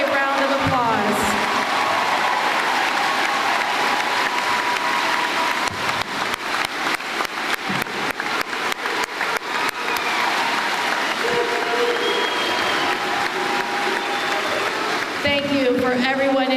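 Sustained applause from a large audience at a 2024 high school graduation ceremony, dense clapping filling the hall from start to finish with crowd noise underneath and brief talk near the edges.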